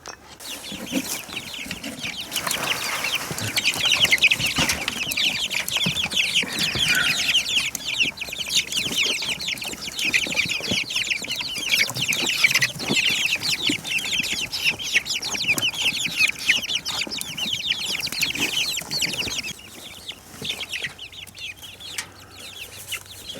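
Young chickens in a new overgrown outdoor home, a busy stream of clucks and chirps running steadily for about twenty seconds, close and fairly loud, then easing off.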